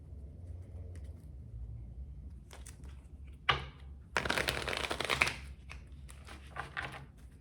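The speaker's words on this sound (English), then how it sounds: "one more shuffle" Tarot cards are shuffled near the microphone in quick papery riffles and bursts, the loudest flurry lasting about a second, over a low background rumble.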